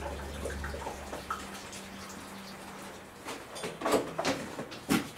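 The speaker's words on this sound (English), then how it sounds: "So I'm going to pour boiling hot water in here." Boiling hot water poured into a container holding plant-cloning pucks, a soft steady pour with low hum at first, then brief splashy bursts toward the end, faint and fairly close.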